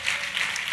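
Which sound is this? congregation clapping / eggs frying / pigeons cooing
congregation clapping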